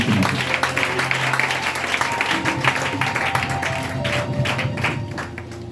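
A church congregation applauds during a morning service, a dense patter of clapping running throughout over sustained music tones, moderately loud and steady.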